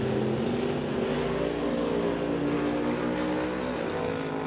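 Drag racing doorslammers, a Firebird and an Acadian, roar down the strip in a steady loud engine drone that holds unbroken throughout.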